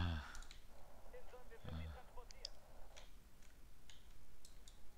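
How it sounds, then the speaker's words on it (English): Sharp mouse clicks from a video game session come in quick, uneven bursts, small and close, mixed with faint game sounds and a voice. "You can hear it in the way I'm clicking."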